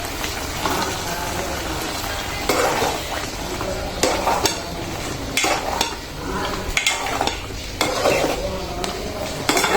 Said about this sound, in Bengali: আমি এখন ভালো করে কষাই নেবো আলু আর ফ্যাপসা একসাথে।